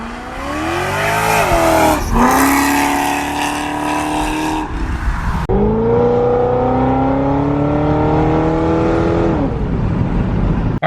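Supercharged Corvette sweeping past in a loud close flyby, engine revving and the pitch climbing then dropping as it passes, with a second high-revving pass that fades into the distance; no talk.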